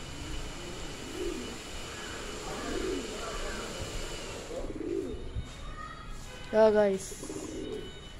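A pigeon coos outdoors in soft, low, repeated calls spaced a couple of seconds apart over faint background noise, while someone speaks briefly.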